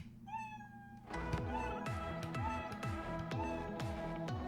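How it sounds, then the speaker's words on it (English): Short recorded cat meow sound effect triggered by a Makey Makey, played once faintly, then followed by a repeating rhythmic electronic beat. "it'll play the meow sound"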